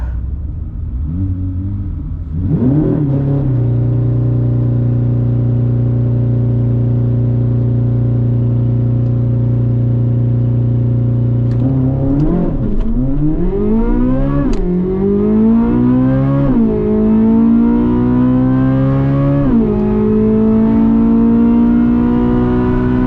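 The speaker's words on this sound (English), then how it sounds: "Now let's run the Z06 up against a stock GT500." A Corvette C8 Z06 and a stock Mustang GT500 in a drag race: a steady loud engine drone at idle gives way to hard acceleration, with revs climbing through several rising gear pulls, close and continuous with no talking.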